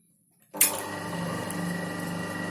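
After a short silence, a sewing machine starts up and runs steadily, stitching a running stitch in pink silk thread with a fast even mechanical whir, close by and alone.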